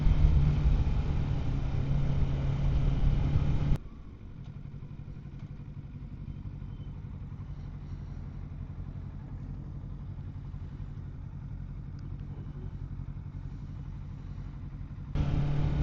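Motorcycle ridden with wheelies on a cool, damp road; a loud engine roar drops abruptly to a quieter, steady rumble after a few seconds, then surges back just before the end.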